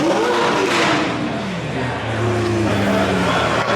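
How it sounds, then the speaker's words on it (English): A Ferrari sports car engine revs loudly and close by at a car meet, its pitch rising and falling through several throttle blips, with a voice faintly underneath. "Ferrari revving it."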